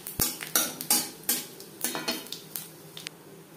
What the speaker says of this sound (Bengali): শুকনো লঙ্কা ভেজে নেওয়ার পর দিয়ে দেব গোটা জিরে।